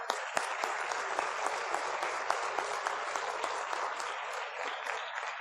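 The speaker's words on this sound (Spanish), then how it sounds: "pido un aplauso." A hall audience at a hospital education event breaks into sustained applause, a bright, even wash of many clapping hands with a few sharper claps standing out, heard alone without talk.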